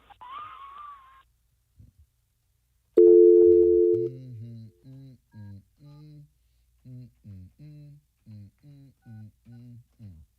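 A phone call to the authorities: a brief high tone, then a steady telephone tone for about a second, followed by a long run of evenly spaced, repeating beeps.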